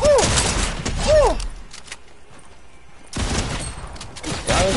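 Rapid gunfire bursts from shotguns in the video game Fortnite, loud and close, arriving in two clusters separated by a quieter stretch, with whooshing in-game effects mixed in.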